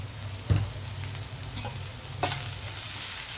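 Salted onions frying in a pan for a beans pulao, a soft steady sizzle with a couple of sharp spatula knocks against the pan early and midway; brief and close, no speech.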